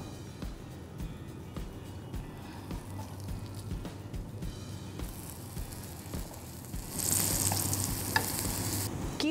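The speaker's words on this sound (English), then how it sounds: "So let's put it for shallow frying." Chicken keema pattice shallow frying in oil on a tawa over a medium flame: a steady, close sizzle that grows louder and brighter near the end as more hiss rises from the pan.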